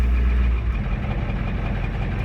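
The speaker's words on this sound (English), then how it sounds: "We'll see if this high idle kicks down on its own." A 6.9 or 7.3 IDI diesel truck engine runs at a steady high idle, a constant deep rumble with a slight knock, close and unbroken.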